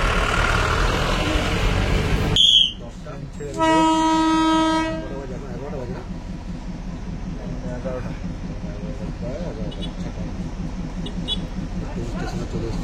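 Darjeeling toy train arriving at Tung station: a loud horn blast sounds amid rumbling rail noise, then the narrow-gauge train clatters steadily along close by with a rhythmic clunking of wheels over joints, and a voice talks briefly.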